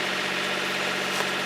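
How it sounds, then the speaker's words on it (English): A boat engine, started from the cockpit, runs steadily with a loud, even rumble and broadband roar, close by and alone. "So now we can start the engine from the cockpit."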